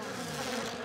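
A swarm of cartoon wasps buzzes in a steady, dense drone that fills the short moment on its own, loud and close with no talking.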